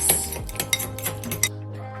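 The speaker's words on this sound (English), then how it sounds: "this is the animal sauce, so I'm just gonna give that a mix" A spoon clinks quickly against a small bowl while mixing animal sauce with mustard and black pepper, a brief run of light metallic taps and scrapes, close and fairly quiet.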